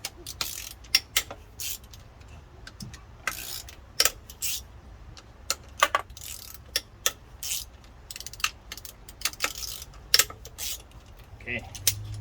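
Valve cover bolts being loosened with a ratchet on a 3.5 L DE V6 engine in an Infiniti, Maxima or Altima, giving scattered close metallic clicks and ratcheting ticks over a low steady hum.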